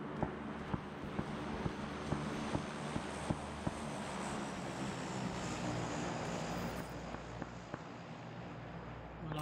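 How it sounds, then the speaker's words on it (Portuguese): An airplane drones overhead in a battle royale video game, a faint steady engine hum running throughout under sharp intermittent clicks and taps. "Mano, avião."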